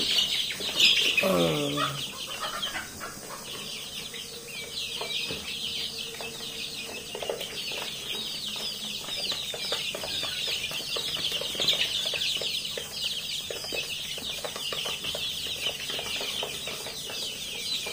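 Native desi chickens and their chicks on a small home farm, with a short squawk near the start followed by continuous high chirping and soft clucks. No speech is heard.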